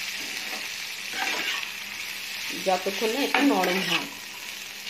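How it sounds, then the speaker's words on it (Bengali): Green chilli and chopped cabbage fry in a pan for American chicken chop suey, giving a steady hissing sizzle with stirring scrapes, while someone talks briefly over it toward the end. "গ্রিন চিলি আর চপ ক্যাবেজ দিয়ে এটাকে আমি ভালো করে একটু ফ্রাই করে নেব"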